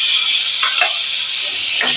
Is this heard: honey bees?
no